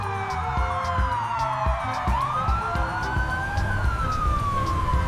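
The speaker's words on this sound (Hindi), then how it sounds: "देखो एम्बुलेंस। एम्बुलेंस को हिंदी में एम्बुलेंस कहते हैं। ये मरीजों को अस्पताल ले जाने के लिए होता है।" Wailing ambulance siren sweeping up and down in pitch over a low road and engine rumble, steady and fairly loud throughout, with no talking.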